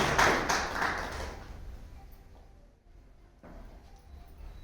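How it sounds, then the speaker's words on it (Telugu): An audience claps for an author's awards at a book review event, a burst of applause that is loud at first, fades over a couple of seconds, then resumes more softly. "మీరందరూ గట్టిగా చప్పట్లు కొట్టండి"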